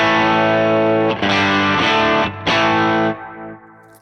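Distorted electric guitar played through a Line 6 Helix dual-cab preset with an American-style amp, thick sustained chords with a wide, effects-laden tone, re-struck a few times before fading.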